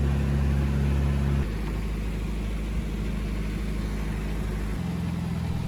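An old Series Land Rover, a barn find, idles steadily with a low, even engine rumble, close by and alone, its tone dropping slightly a moment after starting.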